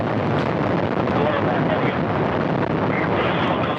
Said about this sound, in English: We have liftoff of the 65th Progress resupply vehicle, beginning a 2-day journey to the International Space Station.